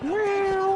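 A human voice imitates a cat's meow: one short, loud, rising then steady nasal mew lasting under a second, heard alone and close up.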